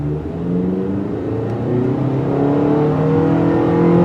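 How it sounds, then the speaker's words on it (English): Steady CVT drone from a 2018 Mitsubishi Outlander SUV under acceleration, a continuous engine hum that slowly rises in pitch and loudness over about four seconds, with no voices. "Got the CVT droning."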